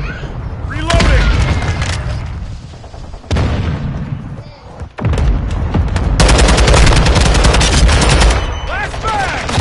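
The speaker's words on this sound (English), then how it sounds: "Friendly mortar strike on the way." Friendly mortar strike in a Modern Warfare 2 Hardpoint match: loud, booming blasts mixed with sustained automatic gunfire, continuous and close, with voices speaking over the combat.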